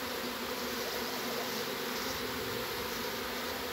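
A swarm of honey bees fills the air with a constant, dense buzzing drone, even and continuous throughout, close and loud with no voices.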